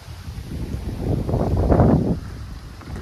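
Wind gusting outdoors, a broad low rumbling buffet against the microphone that swells over the middle of the clip and then eases off.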